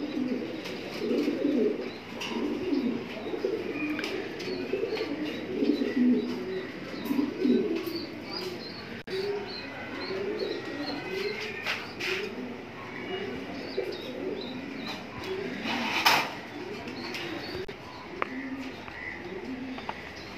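Afshan grizzle racing pigeons in a loft coo steadily at close range, a continuous overlapping run of soft, throaty rolling coos from several birds, with faint chirps and a few brief wing flutters.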